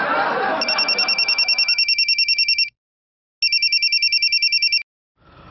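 A telephone rings with an electronic trill in two long bursts separated by a short gap, loud and close, starting over a brief stretch of background noise.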